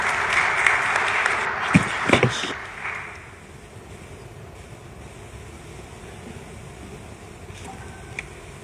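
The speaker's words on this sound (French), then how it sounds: "Je voudrais convier Madame Delima Pamoulapati à mes côtés pour la dernière intervention de ce panel sous vos applaudissements" Audience applause at a panel session of a single-window trade conference in Morocco rises and fades within the first three seconds, leaving a quiet room hum with a few faint scattered sounds.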